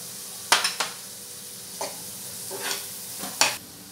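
Capsicum and garlic stirred in a hot pan, with a steady soft sizzle broken by several sharp scraping strokes of a spatula against the pan, no voices.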